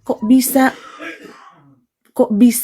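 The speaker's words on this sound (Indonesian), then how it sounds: "Itu babe lagi batuk." A short throaty cough or throat-clearing in two quick bursts, then a pause and another burst, close and fairly loud with voices around it.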